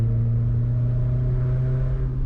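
A Peugeot 406 coupé idles with a new full exhaust line fitted, giving a steady, deep, loud rumble with strong low harmonics and no pauses, close to the microphone.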